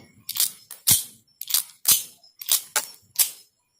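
An R45 toy gun fires about seven quick, sharp snapping shots in an irregular rhythm, loud and close, then falls silent.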